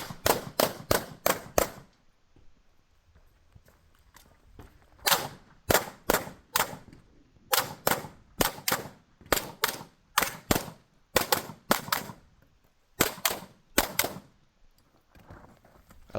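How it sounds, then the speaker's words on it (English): Rifle and pistol shots ring out at a 3-gun shooting match stage: sharp, loud reports in quick bursts of three to five, separated by short pauses, with a longer gap near the start. "at the end, you ran back, retrieved your rifle, and shot rifle targets on the left side"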